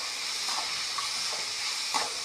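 Ginger, carrot and beans sautéing in a pan, giving a steady soft sizzle and hiss with faint stirring scrapes, fairly quiet and even throughout.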